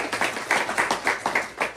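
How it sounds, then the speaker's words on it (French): A church congregation claps in a steady, quick rhythm, about seven even claps in under two seconds, close and fairly soft. "Applaudissez le Seigneur"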